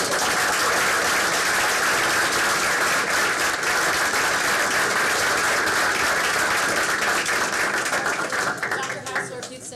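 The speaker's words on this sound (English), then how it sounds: "round of applause for this film." An audience at a school board meeting claps in a long, loud, steady round of applause that holds for nearly ten seconds before starting to fade at the very end.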